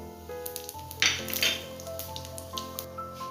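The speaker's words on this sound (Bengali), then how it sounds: "এবারে আমি ফোড়নের জন্য দিচ্ছি এই যে 2টো শুকনো লঙ্কা আর 5 ফোড়ন" Two dried red chillies and five-spice seeds hit hot mustard oil in a pan and sizzle close up, with sharp crackles and pops over a steady frying hiss and a faint tonal hum in the background.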